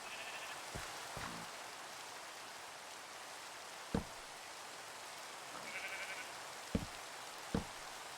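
Sheep bleating in the Minecraft video game, two short nasal bleats spaced apart over faint background noise, with a few sharp clicks between them and no talking.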